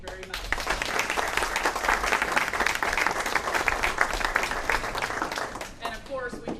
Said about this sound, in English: These people deserve our enormous round of applause